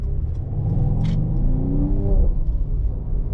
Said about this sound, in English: The engine sounds crazy in this car